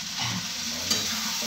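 Previously fried vegetables stirred and fried in a pan for a festive-style Bengali chorchori, a steady close sizzle with scraping stirs throughout.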